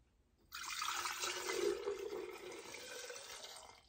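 Enchilada-sauce liquid poured out of a container while home canning, a steady close splashing gush that begins abruptly, holds for about three seconds and then tapers off, with no talking.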